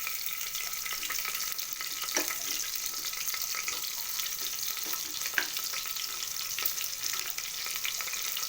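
Onions sizzle and crackle steadily in a hot pan for vegetable biryani, a constant close frying hiss with faint stirring scrapes and no voices.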